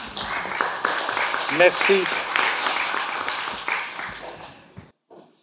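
At a book fair conference, the audience claps for a speaker in steady applause that fades away near the end, with voices speaking over it.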